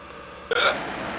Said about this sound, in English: Did you just hiccup?